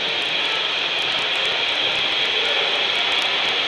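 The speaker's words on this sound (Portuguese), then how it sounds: "o motor está girando em outro sentido" An electric motor, switched by an electromagnetic contactor control circuit and turning in reverse, runs with a steady, loud, unbroken whirring drone that holds level throughout, with no voices.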